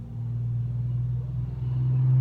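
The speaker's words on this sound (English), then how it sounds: "I'm on a very busy street, so if there's cars and trucks and stuff that you hear nearby" Steady traffic rumble on a busy street, cars and trucks passing nearby as a continuous low engine drone that swells slightly toward the end, with no talk.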